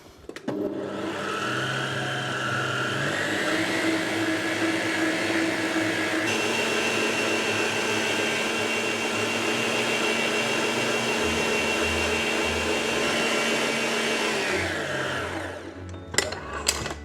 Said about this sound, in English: we're gonna have this whipping at a really high speed again, and we're gonna slowly, 1 tablespoon at a time, add in our sugar